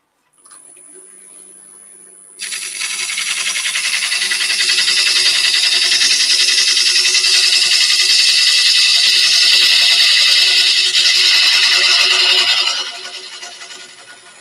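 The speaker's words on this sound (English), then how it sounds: "I'll just get the mortise put in there now." A power tool cuts a mortise into a chestnut burr wood base, starting with a lower steady whine, then a loud sustained high cutting roar for about ten seconds before winding down.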